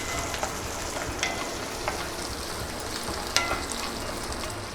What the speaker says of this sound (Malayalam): ഒപ്പം തന്നെ ചെറിയുള്ളി അരിഞ്ഞതും വെളുത്തുള്ളിയും കൂടി ചേർക്കാം. ഉള്ളി ഒന്ന് ബ്രൗൺ ആവുന്ന വരെ നമുക്കിത് വഴറ്റിയെടുക്കാം.